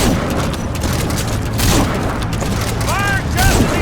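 A gunshot blast in Metal Gear Solid V: The Phantom Pain lands as a loud, deep boom within a dense battle din, with brief whistling chirps near the end.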